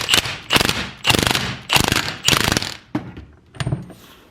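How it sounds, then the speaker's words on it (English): A big Milwaukee impact gun hammers on a 32 mm axle nut, five loud, close rattling bursts in quick succession, then a few shorter, weaker hits. "And I'm just going to use my big Milwaukee gun."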